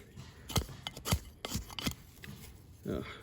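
A knockoff Rambo 2 knife shaves a small piece of wood in a series of short, scraping strokes, about half a dozen quick rasps spaced unevenly at close range.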